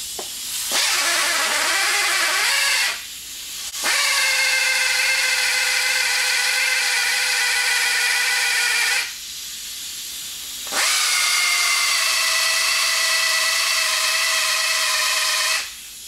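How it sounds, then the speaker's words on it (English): Power sander working along metal edges, a loud steady whine running in three long bursts separated by short pauses, close up with no voices. "I'm going to sand along the edges and try to make a little bit of room"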